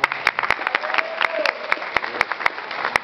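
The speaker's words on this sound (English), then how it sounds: "Round of applause for everybody" Audience applause for acts at a live crossover performance show, a crowd clapping with sharp claps popping out over a dense wash, speech-like tones faintly mixed in.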